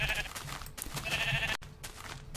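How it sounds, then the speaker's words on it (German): Sheep bleat repeatedly in a video game, several short nasal calls overlapping and close, with game sounds in between and no talk. "Und weil da vorne noch ein paar Schafe sind, töte ich die auch."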